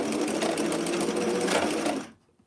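A sewing machine stitches knit fabric for about two seconds, a rapid even mechanical whir with a slight change as it runs over a bump, then stops abruptly into near silence.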